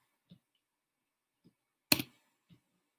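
A few sparse, faint clicks from a computer mouse, with one sharper, louder click in the middle that could be the Control C key press, all in a quiet room with no talking.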